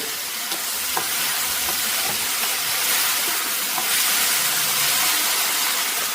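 Tomatoes sautéing in a pan for tomato chutney, a steady loud sizzle and hiss with faint stirring scrapes, continuous and close, no talking.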